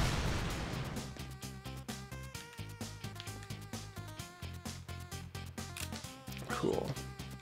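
A detonated charge explodes in the video game Mercenary Kings, with broadband blasts at the start and again near the end, set against looping, percussive game music and repeated beat-like hits.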